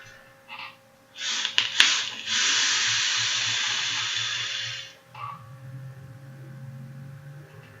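A Tugboat Tuglyfe clone atomizer being vaped: a few short puffs, then a steady, close, airy hiss lasting about four seconds as the draw is taken, fading into quieter breathy sounds.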